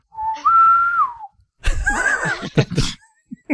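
A person whistles an imitation of the Star Trek bosun's whistle: a rising, held tone that slides down, then a short pause and a burst of breathy, mouth-made noises, up close and alone.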